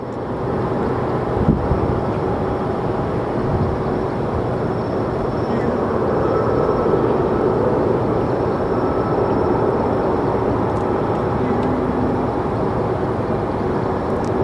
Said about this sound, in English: let's get this plane airborne